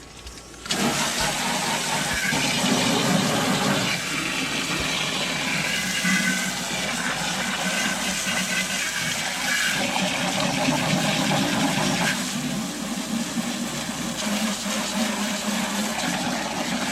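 Water gushes steadily to rinse junk out of the bottom of a long-unused fryer, a continuous loud rushing and splashing that starts abruptly and runs unbroken, no talking.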